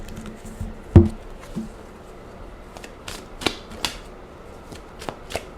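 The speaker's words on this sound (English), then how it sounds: "let me do a good shuffle with this deck" A deck of goddess oracle cards being shuffled by hand, with a sharp riffle-like burst near the start and then a scattered run of light, crisp card flicks and taps, close and alone without talk.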